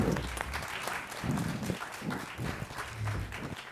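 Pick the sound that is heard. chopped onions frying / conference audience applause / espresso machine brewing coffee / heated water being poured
conference audience applause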